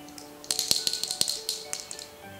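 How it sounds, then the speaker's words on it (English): A baby rattle is shaken in a quick run of bright, clicking taps, roughly a dozen close strikes over about two seconds, with no talking. "So this is also another type of a rattle."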